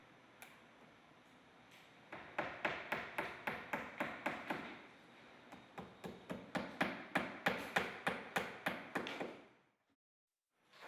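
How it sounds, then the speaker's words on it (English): Hammer blows drive nails through a cut corner piece of CertainTeed Cedar Impressions vinyl shingle siding, a long run of sharp, evenly spaced taps in two bursts, quiet and close, ending in silence. "and nail in place."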